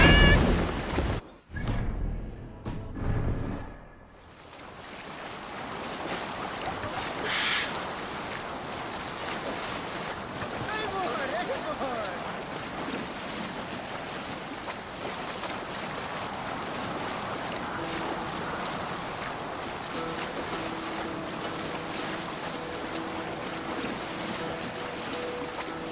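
A Viking longship sailing on waves in the game Assassin's Creed Valhalla: a few loud gusts and rumbles at the start, then a long, even wash of wind and water that holds at moderate loudness.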